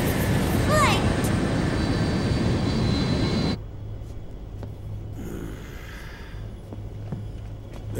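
Inside a plane in Metal Gear Solid 4, a loud broadband aircraft engine roar fills the cabin, then drops abruptly to a softer low hum with faint ambient sounds.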